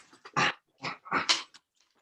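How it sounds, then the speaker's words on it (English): A dog growls and grumbles in a few short, close bursts, apparently impatient for dinner, separated by brief silences. "This is my dog, Dylan Thomas Wagglebottom"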